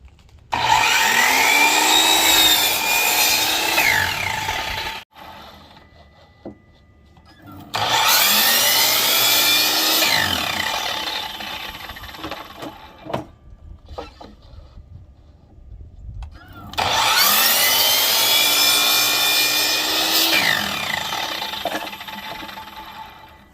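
A power saw cuts shiplap boards to length on a jig in three loud bursts, each whining up through the wood for several seconds, with quieter gaps of handling and shuffling in between.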